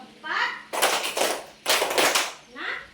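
Students in a classroom clap in bursts as part of a counting game, two dense runs of rapid, crisp claps flanked by the teacher's voice speaking before and after.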